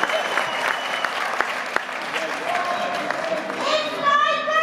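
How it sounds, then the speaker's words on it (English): A concert audience at a casino and hotel venue in Hanover, Maryland, applauds in a sustained wash of clapping, with a few sharp claps standing out, talk in the background, and whoops and cheers rising toward the end. "give her a round of applause"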